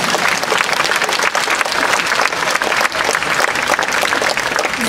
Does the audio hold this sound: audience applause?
yes